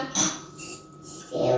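Large spoonfuls of sugar are tipped into a mixing bowl holding cracked eggs for pancake batter. Close, soft scraping and rustling comes in three quick bursts.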